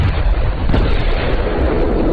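Vehicles blowing up in an action film scene, a dense continuous blast-and-rumble of explosions lasting about two seconds, loud and close with no speech.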